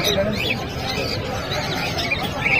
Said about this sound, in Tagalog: Napakadaming ibon.